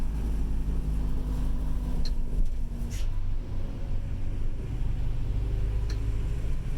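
A public bus engine on the road from Quito to Otavalo drones as a steady low hum throughout, with faint rattles and road noise inside the cabin.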